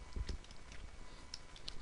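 Typing on a computer keyboard during a list search entry: a few quick, faint key clicks, with a firmer pair of taps near the start and lighter scattered presses afterward.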